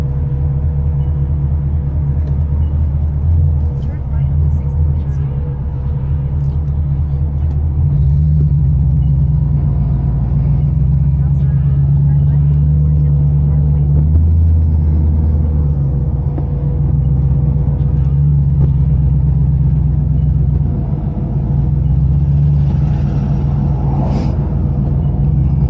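A 1987 box Chevy Caprice cruising through New York streets, its steady low engine rumble and road drone running continuously and close, with slight swells of throttle and no talking.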